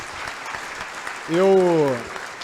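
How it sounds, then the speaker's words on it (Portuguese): Applause from the audience at a swearing-in ceremony, a dense steady wash of clapping throughout, with a voice rising briefly over it in the middle. "eu peço de verdade uma salva de palmas pelo que você representa, Josier"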